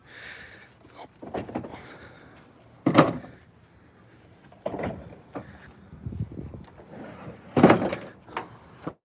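A Decked storage drawer system in the bed of a sprinkler service truck rolls and clunks as it slides open and shut, with several loud knocks and rattling slides spread over several seconds outdoors.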